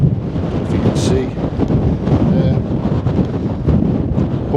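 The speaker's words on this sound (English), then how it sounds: "but it is windy" Strong wind batters the microphone and gusts across open boggy fells at a stormy wild camp, a loud, constant roaring buffet that surges and eases throughout.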